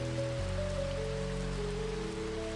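Gentle rain falls in a continuous soft patter, an even wash of drops with no talk, while a low sustained tone hums underneath.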